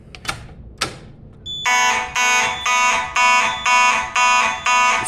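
A Simplex 4004 fire alarm triggered from a pull station blares in loud, regular pulsing horn blasts, about seven in a steady rhythm, preceded by a couple of sharp clicks and knocks.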